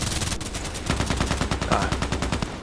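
Rapid automatic fire from an AKMS rifle in the shooter game Contract Wars, a close, loud, evenly spaced stream of shots lasting the whole moment.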